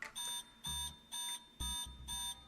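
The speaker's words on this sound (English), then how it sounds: "the alarm suddenly echoes throughout the entire gallery" An alarm rings through a gallery in the game Love and Deepspace, with five steady electronic bursts in a regular on-off rhythm, each holding a sustained tone.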